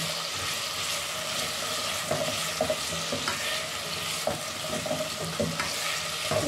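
Vegetables and garlic cloves sautéing together in a pan, a steady close sizzle broken by frequent scraping and clinking of stirring.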